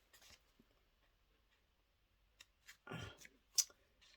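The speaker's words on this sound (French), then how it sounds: "on n'oublie pas de couper le papier qui dépasse" Quiet snipping and clicking of scissors trimming excess paper on a handmade Polaroid storage box, a few sharp irregular snips with soft rustling in between, nearby and faint.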